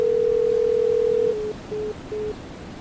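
A telephone dial tone sounds right after speed dialing, a loud steady pure tone that then breaks into three short, evenly spaced beeps.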